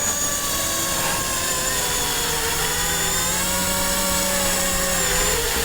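DJI FPV drone motors whine steadily and loudly as they spin up for takeoff, a continuous high-pitched buzz with shifting tones and no talking.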